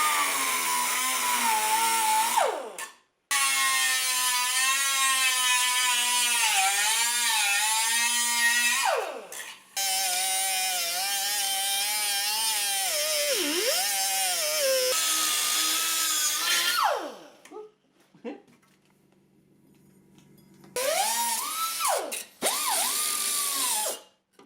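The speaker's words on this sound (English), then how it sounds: "I'm stuck using the air grinder and the Dremel" An air grinder and a Dremel grind the rear spring perch off a 1976 Mazda RX-5 Cosmo in a cramped space, each a loud, high whine in long bursts whose pitch sags under load and recovers, broken by short pauses.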